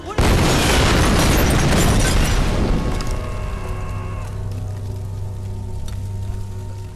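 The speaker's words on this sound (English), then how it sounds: "That was kind of a big explosion." A huge bomb blast in the video game Tomb Raider bursts suddenly and loudly, then rumbles and crackles as debris settles, fading into a lingering roar over several seconds.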